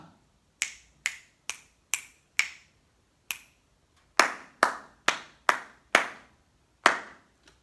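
Close, dry hand claps marking the Lucy Locket rhythm in tas and tates: a lighter sequence of six claps, then a louder, faster cluster of about seven, with no talking.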